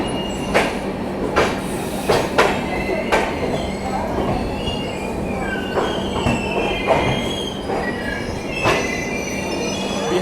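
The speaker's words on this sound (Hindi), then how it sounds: "और दूसरी तरफ बलिया सियालदा एक्सप्रेस भी आ चुकी है।" Ballia Sealdah Express pulling into an Indian railway station near Barauni, Bihar, with a steady rolling rumble of wheels, rhythmic rail clacks and squealing metal, heard close and continuous throughout.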